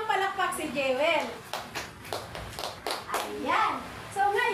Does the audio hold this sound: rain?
no